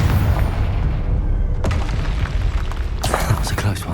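Confringo fire spell blasts in the Hogwarts Legacy video game, a loud, rumbling boom with a sharp crack partway through and another bright burst near the end, thick low rumble throughout.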